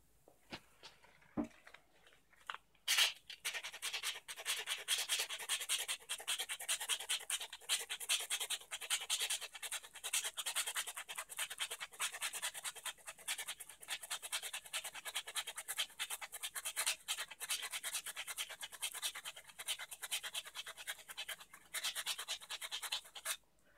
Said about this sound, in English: use some rough grit sandpaper and continue to sand this down until it fits in snugly but easily